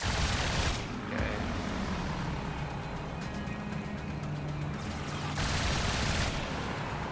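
Machine guns on a Bf-109 G6 fighter in Trailmakers rattle through a steady roar of engine and wind, bursts of fire running nearly the whole time, loud and dense, with a sharper rush at the start and near the end.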